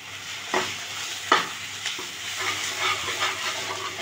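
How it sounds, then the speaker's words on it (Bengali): Ripe, dried pointed gourd fries in a pan with a steady close sizzle, broken by a few sharp scraping stirs near the start and in the middle. "দেখুন এরকমভাবে ভাজা ভাজা হয়ে আসবে"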